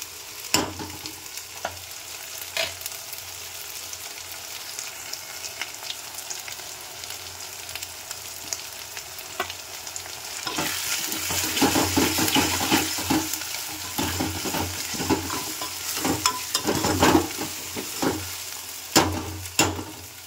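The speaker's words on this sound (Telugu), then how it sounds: "అల్లం వెల్లుల్లి పేస్ట్ అయితే పచ్చివాసన పోయేంత వరకు మంచిగా వేపుకోవాలి" Ginger garlic paste frying in a pan for chicken gravy curry, a steady sizzle broken by repeated sharp scrapes and clacks of stirring that grow busier and louder midway, no voices.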